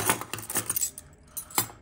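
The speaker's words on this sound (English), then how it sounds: "Okay, these are the keys I have in my survey bag." A bunch of survey keys, fire brigade keys among them, jangles up close in a surveyor's kit bag, with a dense run of bright metallic clinks and rattles, pausing briefly before another shake.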